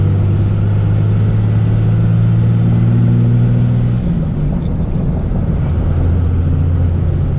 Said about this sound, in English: cruising in sixth. I mean, like this thing's at like really low RPMs, going about 60 miles an hour